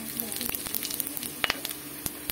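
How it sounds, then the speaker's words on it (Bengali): Cinnamon sticks, dried red chilli, cardamom and cloves sizzle in hot tempering oil in a kadai. The frying hiss is steady and close, with small sharp crackles and pops scattered throughout. "এবার ফোড়নে দিয়ে দেবো 2টো দারচিনি, শুকনো লঙ্কা, এলাচ আর লবঙ্গ।"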